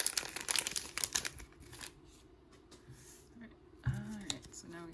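A foil wrapper on a Pokémon Sword and Shield booster pack is torn open and crinkled, with a busy burst of close crackling at first, then sparse rustles and a short clatter, and a voice is heard briefly.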